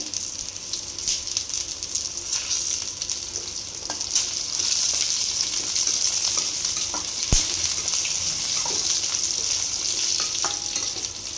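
Red chillies and tomatoes frying in a pan for chutney give a steady bright sizzle with occasional stirring scrapes and clicks. The sizzle carries on continuously with no voice over it.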